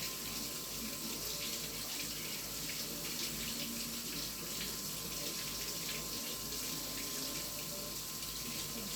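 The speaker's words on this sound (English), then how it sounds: "So this is my sausage. I'm gonna rinse this off. Get this rinsed off real good." Sausages being rinsed under a running kitchen tap, a steady close hiss of water pouring into a sink with no break for the full length.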